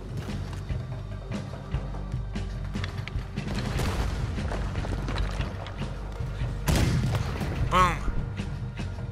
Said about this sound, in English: Use the fucking cannon.